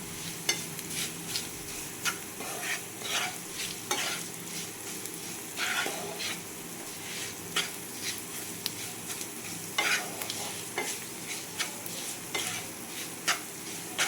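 Roasted semolina is mixed into vegetables in a pan for spicy sooji pulao, giving a low frying hiss under frequent short scraping strokes of a spoon, close and moderately quiet, with no speech.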